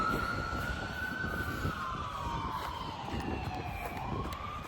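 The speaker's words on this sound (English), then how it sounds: "oh, there's an ambulance, sorry about that" An ambulance siren wails steadily at a distance, its pitch sweeping and easing as it passes, over an outdoor street background with no talking.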